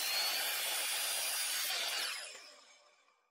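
A saw cutting through a piece of wood in a close, continuous bright rasping stroke that fades out over the last second, with no voice.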